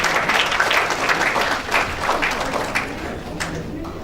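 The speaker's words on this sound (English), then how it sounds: "Big round of applause for all the students." An audience at a school's annual function applauds students, a dense and fairly loud burst of clapping that continues throughout and begins to fade toward the end, with voices mixed in.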